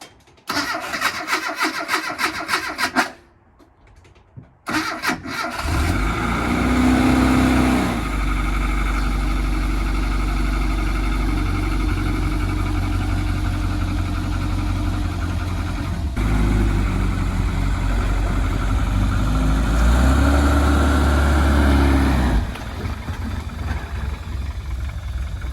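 A classic Mini's engine cranks with a rapid starter whir, pauses briefly, then catches and settles into a loud, steady idle with a couple of revs rising above the running drone.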